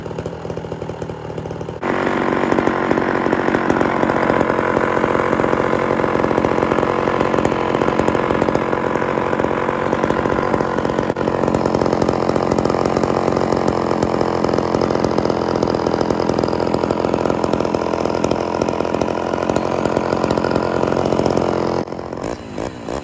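A Homelite Super XL chainsaw with a rebuilt Tillotson carburetor and a bad cylinder and piston idles steadily and loudly up close, with a continuous rough two-stroke drone that runs unbroken for the whole stretch and has no talk over it.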